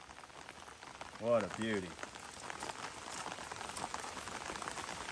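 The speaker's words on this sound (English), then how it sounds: "Think we'll do one more mag with us out here in the rain, getting wet for you." Steady rain falling outdoors at an outdoor shooting setting, a constant close hiss and patter throughout, with someone speaking briefly over it.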